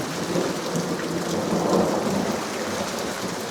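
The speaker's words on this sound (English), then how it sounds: "Yep, that's a storm." A thunderstorm recorded outdoors, steady heavy rain hissing on surfaces with a deep rolling rumble of thunder swelling and fading beneath it, loud and continuous throughout without any voices.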